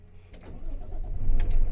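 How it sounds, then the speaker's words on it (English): A truck engine cranks with the ignition key and catches, its low rumble building steadily and growing louder to a steady idle over a couple of seconds, with brief higher whirring bursts during the start. "turn the key, truck will turn on."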